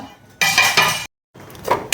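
Freshly ground masala for sambar hits a hot tempering in a pot, giving two loud, close bursts of hissing sizzle and splatter split by a short silent gap.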